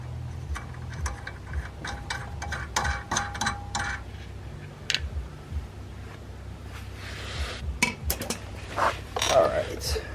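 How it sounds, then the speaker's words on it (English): Lug nut being threaded onto the hub of a 1968 Pontiac Firebird fitted with Brembo brakes, a run of close metallic clicks and ratcheting creaks, intermittent and fairly quiet, with light background noise and no talk. "We'll go ahead and put a lug nut on here."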